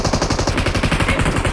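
An M249 light machine gun fires in PUBG Mobile, a loud sustained burst of rapid, evenly spaced shots filling the whole moment with no pauses.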